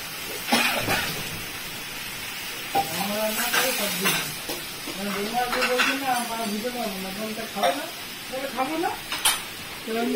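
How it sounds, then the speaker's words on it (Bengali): Malabar spinach fritters fry in oil with a bubbling sizzle, punctuated by clinks and scrapes of utensils against the pan, while people talk over the cooking throughout. "দেখো পুঁইশাকের বড়া করছে মা এখন"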